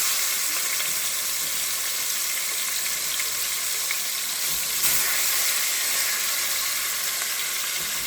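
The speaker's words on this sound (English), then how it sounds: "Don't overcrowd your pot because you're going to start frying." Oxtails fry in hot oil in a pot, giving a steady, dense sizzle that holds evenly throughout at moderate loudness, with no voices.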